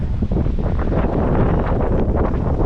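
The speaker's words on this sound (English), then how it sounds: "As you can hear, it's quite windy up here" Strong wind buffets and roars across the microphone without pause atop Sigiriya rock in Sri Lanka, a loud, rushing blustery noise.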